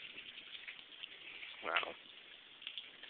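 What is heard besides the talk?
rain falling in a backyard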